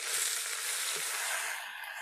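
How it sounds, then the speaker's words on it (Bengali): Moringa leaf greens hit a hot pan of oil with garlic and dried chili, setting off a loud, steady sizzle with a few soft stirring knocks underneath. "এবার আমি শাক ঢেলে দেবো।"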